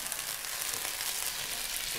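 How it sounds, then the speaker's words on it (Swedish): Pork fillet flambéed in a frying pan gives a steady, dense sizzle and frying hiss throughout, close and constant with no voices. "Flambera."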